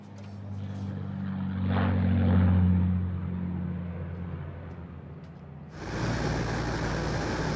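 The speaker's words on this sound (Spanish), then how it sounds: "El Sun-Suk Black, el avión de Kennedy, tuvo un despegue perfecto" Broad roaring engine drone of an airplane taking off, swelling and fading with a low rumbling hum, then a sudden harsh hiss of noise near the end, no speech.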